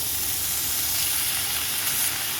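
Potatoes and fenugreek leaves fry together in a pan for aloo methi, giving a steady, dense sizzle with a bright hiss that holds an even level throughout, close up and with no talk.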